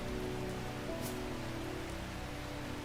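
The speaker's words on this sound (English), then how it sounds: "I'm pretty sure it's actually raining here." Steady rain falls outside, a dense even hiss of drops on surfaces that fills the whole moment without voices.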